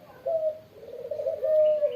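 A captured spotted dove (tekukur) gives soft, drawn-out cooing notes in a short sequence, moderately near, with no talking over it.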